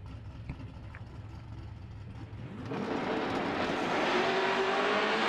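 Chevrolet Performance stock drag race cars in a final at the NMCA World Street Finals, engines idling low and steady, then a loud surge as they launch and rev hard, rising pitch and volume to the end.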